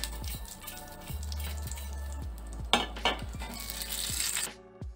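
Dried red chillies and whole cumin crackle and sizzle in hot ghee on a tawa, with steady frying hiss, light pops and occasional metallic clinks of a spoon against the pan.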